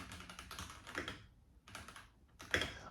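A ROYALAXE ProtoArc Y98 wireless mechanical keyboard is typed on in quick close bursts of clacking keys, with short pauses between runs and a louder cluster of strikes near the end; no talking.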